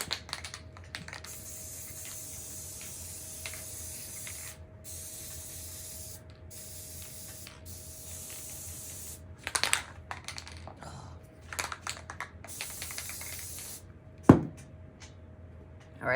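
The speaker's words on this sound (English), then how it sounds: "So the reason you want to spray it in a box top is obviously it's spray adhesive." Several short hissing bursts of spray adhesive sprayed into a box top close by, separated by quiet stretches, with a faint steady tone and a sharp knock near the end.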